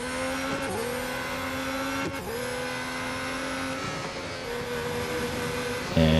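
A Formula 1 car engine in an F1 racing game at the Abu Dhabi Grand Prix holds a steady high whine at speed, with two brief dips where gears shift and a short burst of louder noise at the end.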